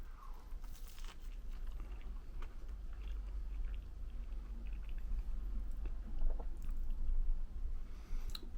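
Close, quiet chewing and soft squishy bites of a hash brown filled with Heinz beans, irregular mouth sounds over a low background rumble with no talking.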